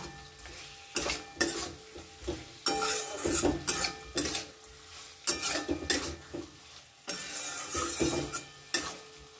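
A spoon stirs chhana potol curry in a pot, with ghee and a little sugar, scraping and clinking against the metal in repeated close bursts over a soft background sizzle.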